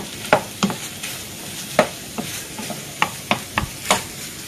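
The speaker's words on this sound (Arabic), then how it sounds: "كنبقاو نخلطو هاد الكفته مع هاد البطاطا اللي قلت لكم قليتها من قبل على شكل مربعات" Spoon stirring kofta mince filling with diced fried potatoes in a pan, irregular scraping and clacking strokes over a faint sizzle, close and alone.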